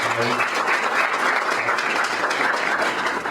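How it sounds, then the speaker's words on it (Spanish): A seated audience at a panel on media and press freedom applauds a journalist, a dense, steady wash of many hands clapping for the whole stretch, with a faint voice at the very start. "Les pido un gran aplauso, por favor, para el periodista"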